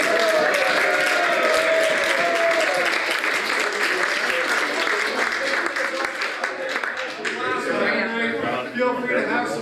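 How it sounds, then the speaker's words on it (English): Sustained applause from an audience at a volunteer ski patrol speaker event, dense steady clapping that fills the room, with voices talking over it near the end. "one round of applause for Reno"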